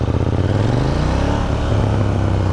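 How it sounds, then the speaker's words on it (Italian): A KTM 790 Duke naked motorcycle, loud for a stock bike, runs close by with a deep, rumbling engine note that rises and falls with throttle revs. No voices are heard. "andiamo all'accensione, sentirete subito il ground sound che ha questa moto, molto rumorosa per essere di serie"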